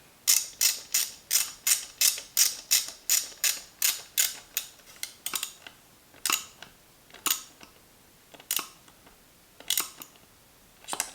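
A screw on a Dyson cordless vacuum is being tightened, producing a run of sharp, evenly spaced ratcheting clicks that come quickly at first and then slow to sparser, separate clicks, close up with no talking.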